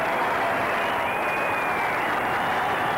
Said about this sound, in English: To a tremendous round of applause